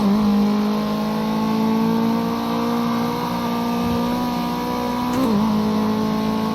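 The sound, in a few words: race car engine revving in Project Cars 2 video game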